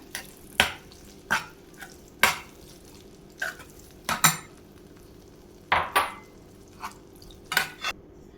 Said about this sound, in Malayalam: ഇനി നമുക്ക് ഫ്രൈ ചെയ്ത് വെച്ചിരിക്കുന്ന ഉലുവ ഇല ഇതിലേക്ക് ചേർത്ത് കൊടുക്കാം. നല്ലതുപോലെ ഇളക്കി മിക്സ് ചെയ്യാം.